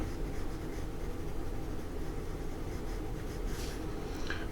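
Light coloring in with a darker green pencil or marker on paper while drawing a cartoon dragon, a soft continuous scratchy rustle of strokes close by with no voices.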